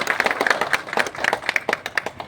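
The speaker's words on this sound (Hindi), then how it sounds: "एक बार थोड़ी जबरदस्त तालियां आनी चाहिए।" Audience applause at a film promotion event in Patna for the Bollywood movie Bhaiyya Ji with actor Manoj Bajpayee, a dense, steady crowd clapping that carries on throughout without a break.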